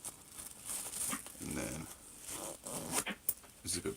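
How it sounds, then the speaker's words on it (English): Zipper on a latex Frankenstein mask being worked, a short rasping zip near the middle, partly under a man's speech and crinkling latex handling. "unzip the mask to put it on,"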